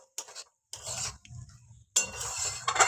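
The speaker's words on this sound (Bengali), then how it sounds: "একটু ভালো করে নাড়াচাড়া করে নিচ্ছি" A pan of egg mixture, made with a single egg, being stirred: scraping, rubbing bursts of a utensil against the pan in three separate spells with short silent gaps, close by.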